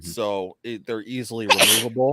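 A single sharp sneeze bursts out in the middle of a casual podcast conversation. It lands between stretches of nearby talking.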